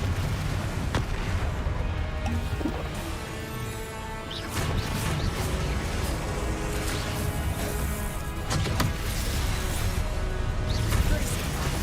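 Confringo fire-blast spells in Hogwarts Legacy erupt in repeated booming bursts over dense battle noise, with sharp impacts standing out every few seconds and a voice occasionally audible in the mix.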